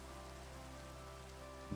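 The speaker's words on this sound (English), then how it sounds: "It is raining." Rain falling in Minecraft, a faint, steady hiss of drops on surfaces with a small tap near the end.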